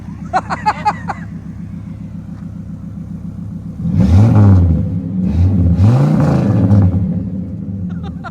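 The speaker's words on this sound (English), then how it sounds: "Rev it up." A 1979 Kenworth W900A truck engine idles with a pulsing low throb, then revs hard twice in loud rising surges before settling back, with a few brief voices at the start.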